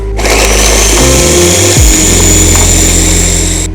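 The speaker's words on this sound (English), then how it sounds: "Take 2 fresh green chilies, add it in your processor. Cilantro for this. Process this." A food processor whirs loudly and steadily as it chops fresh garlic cloves, green chilies and cilantro, its motor pitch dipping briefly midway before settling back into a constant close drone, with no talking.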